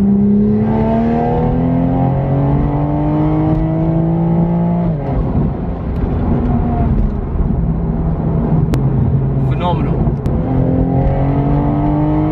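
Modified 550 bhp Toyota Supra accelerating hard in fourth gear, engine note climbing steadily, a brief dip at a shift, then rising again, loud and close from inside the car.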